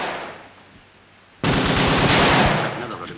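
A machine gun in a 1943 wartime film opens up suddenly after a quieter stretch, with a loud rapid rattle of shots that hold steady for a couple of seconds.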